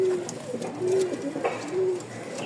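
A male Lahori pigeon coos in repeated low, rounded calls, about three close-up phrases with short pauses between, with faint background noise.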